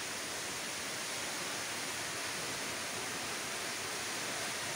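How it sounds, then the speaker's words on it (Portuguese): Roaring waterfall at Cascata do Herval in Santa Maria do Herval, heard from directly beneath the falling water: a loud, steady broadband rush with no pauses. "Estamos exatamente debaixo da cascata."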